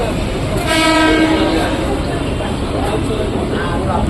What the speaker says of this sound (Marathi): बघा तर मित्रांनो बघा ट्रेन आले